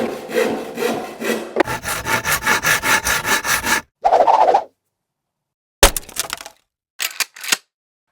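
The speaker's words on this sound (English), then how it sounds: "So I'm going to cut one at 30, or four at 33 centimeters, and then one at, or two at 83. So we're going to cut those real quick." Timber battens are hand-sawn in a run of quick, rhythmic rasping strokes. A sharper burst follows, then a pause, then a few scattered knocks and short scrapes of wood with silence between them. The sounds are close and loud, with no voices.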